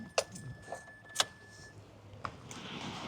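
Keys for a Mitsubishi Xpander GLX manual jangle in a few short, bright metallic bursts, close and fairly quiet, with small clinks in between and a steady low hum under them.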